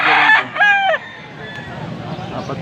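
Bull stag roosters at a rainy market in Angeles, Pampanga crow loudly and close, one full call followed by a fainter answering crow against a backdrop of crowd murmur.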